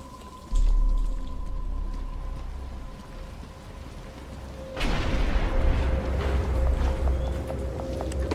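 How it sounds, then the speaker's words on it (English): Rain falling in the Batman: Arkham Asylum video game, a steady patter mixed with clopping, thudding game sounds that grow busier halfway through, with no speech. "But it's starting to rain."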